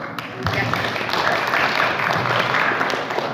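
Audience applause at a meeting on educational policy for Aymara, Quechua and Amazonian indigenous peoples, a dense, steady clapping wash that rises quickly after a brief quiet moment and holds evenly to the end.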